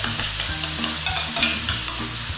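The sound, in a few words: tomato puree sizzling and being stirred in curry pan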